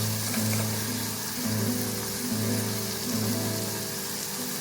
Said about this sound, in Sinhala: මේක තෙලේ ටෙම්පරාදු කරගමු